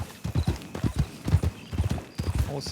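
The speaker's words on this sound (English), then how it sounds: "Horse hitting the ground too hard." Rapid, steady clip-clop of a ridden horse's hooves in a Western roleplay game, close and loud with an even galloping rhythm over the full stretch.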